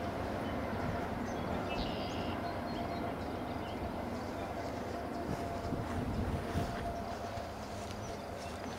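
A CSX freight train with box cars and a DPU at the end passes as a steady, fairly faint low rumble with faint metallic clatter, lasting the whole stretch.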